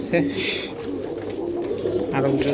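Domestic pigeons of the Koka and Kaldom breeds coo in low, throaty rolling calls, close and steady, while someone talks over them.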